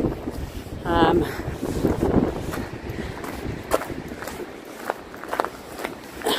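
Strong wind gusts buffet and roar across the microphone at Mount Jerome, with rustling and a few light knocks and taps scattered throughout.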